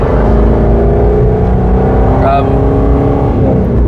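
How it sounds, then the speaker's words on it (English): An Aston Martin Vantage GT8 engine rumbles loudly and steadily as the car moves off, a deep continuous drone heard from close inside or beside the car, with a brief voice in the middle. "Engine started, and we're moving, just like that"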